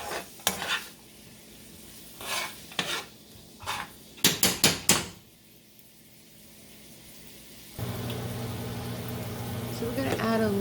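Carrots and onions sautéing in olive oil, stirred with a spoon: scattered scrapes and clinks of the spoon against the pan at first, then a steady close sizzle of frying that builds and continues to the end.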